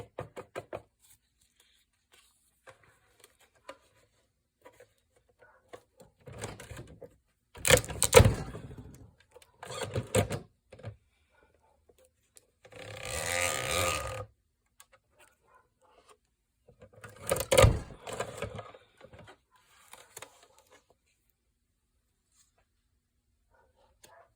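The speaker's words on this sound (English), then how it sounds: "There is no gentle way to cinch bind." A cinch binding machine punches a stack of journal pages in several separate bursts. Each burst is a loud mechanical clunk or rattling crunch, with clicks and handling knocks in the quiet gaps between, heard up close in a quiet room.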